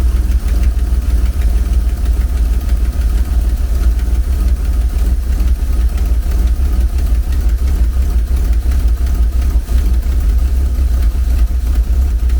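Cold Reliant Scimitar GTE engine idling lumpy, a loud, steady, close rumble with uneven, knocking pulses running throughout and no talking.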